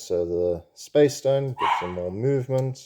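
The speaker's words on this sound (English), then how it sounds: "Sorry, that's my dog." A pet dog indoors gives a brief bark or two partway through, nearly buried under someone talking steadily close to the microphone.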